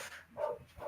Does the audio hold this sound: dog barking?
yes